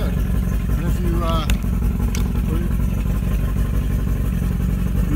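A Mercury 40hp two-stroke carbureted outboard engine runs at a steady rattling idle with light clatter, while someone talks over it nearby.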